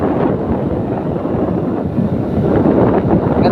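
A Skygo Bolt 150 motorcycle on a test ride, heavy wind buffeting the microphone in a constant loud rush that swells slightly near the end.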